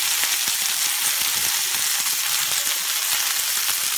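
Fresh mint leaves frying in a pan for pudhina thokku, a loud steady sizzle and crackle throughout with faint stirring underneath.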